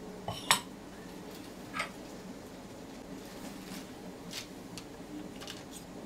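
A fork clinks against a pan while draining fried cocostar dough from oil, a few sharp metallic taps spaced apart over a soft steady background of sizzling.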